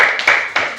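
Several rounds of hand clapping from an elementary school class, with bursts rising and fading in quick succession.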